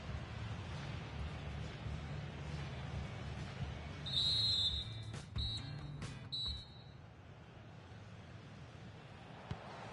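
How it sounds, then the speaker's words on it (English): A referee's whistle in a FIFA video game match in Madrid: one long shrill blast, then two shorter toots, all over a steady roar of stadium crowd noise. "The whistle sounds, and the second half gets going."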